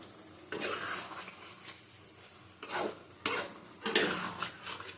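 A utensil stirs and mixes a curry of potato, pointed gourd, onion and poppy seed in a pan, with a few distinct scraping strokes over a faint low simmer.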